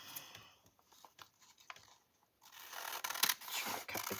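Quiet, close snips and rubbing of scissors through paper, a few soft cuts early, then a louder burst of crisp crunching near the end.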